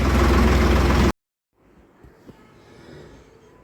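A tractor engine runs loud and steady at close range for about a second, then cuts off abruptly, leaving only faint background noise and a few soft knocks.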